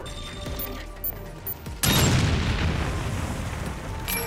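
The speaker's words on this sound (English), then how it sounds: "Grenade out." A grenade goes off in the video game Umbrella Corps as a sudden loud blast that hits midway and then rolls into a long, heavy rumble that fades slowly.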